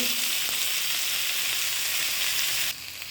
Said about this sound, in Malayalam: അയല നന്നായിട്ട് ഫ്രൈ ആയിട്ടുണ്ട്